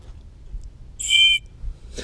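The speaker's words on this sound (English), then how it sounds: "The paddles also have a whistle." A whistle built into a Pelican kayak paddle gives one short, shrill blast in a quiet outdoor setting, followed by a brief second toot at the very end.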